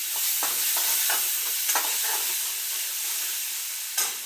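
Onion, coriander and tomato tossed into a hot frying pan that already holds garlic give a steady close sizzle. Scraping stir strokes come every half second or so, with one sharp clack near the end.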